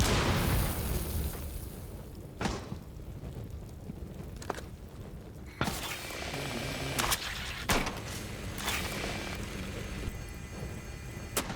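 SMG-12 submachine gun firing in a first-person shooter video game, several bursts and sharp shots over a dense, steady background of game noise, with no talking.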